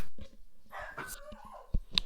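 A dog barks and yips a few times in short, sharp bursts, fairly close, with some rustling in between.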